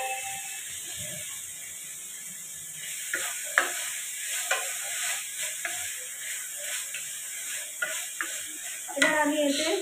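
Chili, bay leaf and tomatoes fry in a pan with a steady hiss of oil, broken by scattered clicks and knocks of stirring that grow busier toward the end.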